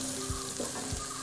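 Shallots sautéing in a pan for a beef dish, a faint continuous sizzling hiss with a couple of soft stirring bumps in one brief stretch, no one speaking.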